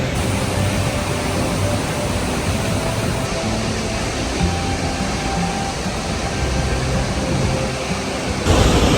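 Steady roar of a waterfall along the Half Dome hike in Yosemite, a dense continuous rush of falling water that stays loud and unbroken throughout with no voices over it.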